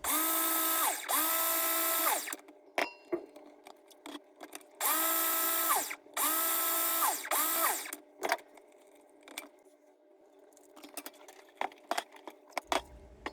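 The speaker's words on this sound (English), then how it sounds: "put it in the food processor to blend to create a gluten-free oat flour" A food processor pulses oats into gluten-free oat flour in loud motor bursts of roughly a second each, two then two, rising and falling in pitch, with scraping clicks and clatter in the gaps.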